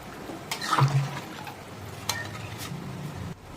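A spoon scrapes and stirs a pan of simmering Bengali katla fish curry, a few distinct clinks and scrapes over a soft, steady bubbling and sizzle, close by.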